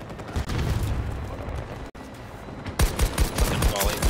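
Video game gunfire, a dense rattle of rapid automatic shots building to a loud sustained burst near the end, over rumbling battle noise with a player's voice talking.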